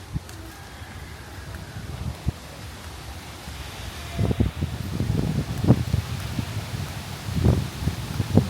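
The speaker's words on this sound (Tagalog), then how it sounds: "Lakas ng hangin dito, guys." Strong gusty wind buffets the microphone, roaring in low rumbling bursts that grow heavier in the second half.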